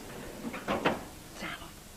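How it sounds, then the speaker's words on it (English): A door is opened in a domestic drama scene, giving a couple of close clunks and a scrape within about a second, followed by a softer shuffle. "Right, open that door for me."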